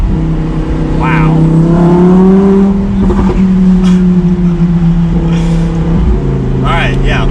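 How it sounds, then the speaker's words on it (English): Exhaust of a 2020 Lamborghini Huracan EVO Spider while driving, a loud steady engine drone that rises in pitch, dips and shifts with gear changes, with a voice briefly over it. "Gosh, that exhaust is incredible."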